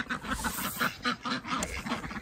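Ducks quacking on a cold, icy north Idaho farm during morning chores, a run of repeated quacks at moderate distance with no talk over them.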